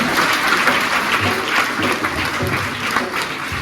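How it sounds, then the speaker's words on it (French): A church congregation at a children's Mass in the chapel applauds warmly for the children, dense sustained clapping from many hands filling the room without a break. "on applaudit très fort pour ces enfants"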